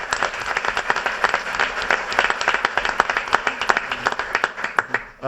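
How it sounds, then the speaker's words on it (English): Audience applause at an entrepreneurs' talk event, a crisp, steady patter of many hands clapping close by, sustained evenly for several seconds before thinning out at the end. "So a round of applause for that."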